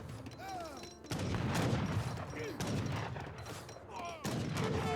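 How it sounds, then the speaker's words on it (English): Rockets fire in a real-time strategy battle in Age of Empires 3, launching in a few quiet bursts of crackling blasts over the busy clatter of combat, with commentary voiced over the action. "And here comes the rockets."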